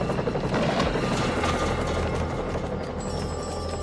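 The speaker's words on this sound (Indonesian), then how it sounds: "Setelah helikopter mendarat, Thomas langsung berlari ke arah heli." Continuous throbbing drone of a landing helicopter in a forest, close and steady, its rotor chop pulsing throughout with a thin high whine near the end.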